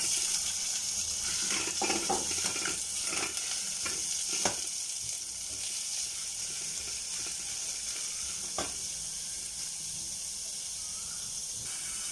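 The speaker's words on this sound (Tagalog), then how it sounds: "Igisa natin itong minced pork" Minced pork sautéing in a pan, a steady broad sizzle with scattered crackles and pops throughout, fairly close and continuous with no talking.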